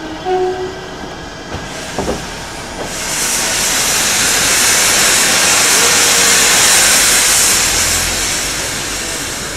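A steam locomotive on the Dartmouth Steam Railway at a station platform releases a loud, sustained hiss of steam that swells and lingers, following a few brief clanks and thuds.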